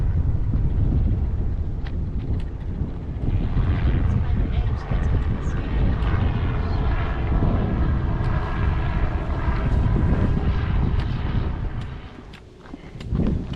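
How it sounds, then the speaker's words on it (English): Tour helicopter flying over Waimea Canyon, heard as a steady broadband engine and rotor drone that holds throughout the clip, loud and mixed with wind noise. "There's a helicopter flying over the..."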